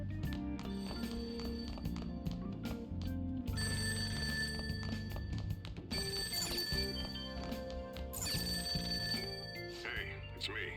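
A telephone rings downstairs in the game Persona 5 Royal, its repeated ringing tones sitting over steady background music throughout.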